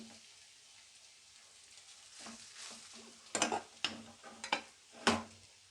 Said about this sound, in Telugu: ఇప్పుడు ఇందులో మనం రైస్ వేసుకొని కలిపేసుకుందాం